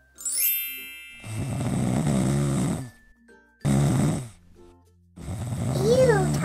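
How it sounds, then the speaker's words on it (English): An elderly grandmother snoring, three long, loud, rasping snores separated by short pauses, alongside a high ringing chime at the start and a brief squeaky whistle near the end. "she's snoring"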